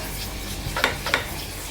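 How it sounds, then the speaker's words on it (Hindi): Besan halwa is stirred and roasted in a pan, giving a low continuous sizzle with two or three soft scraping strokes of the spoon against the pan, close and fairly quiet. "इस स्टेज पे तो प्रॉपर इसको स्टर करने की, चलाने की बहुत ज़्यादा ज़रूरत है"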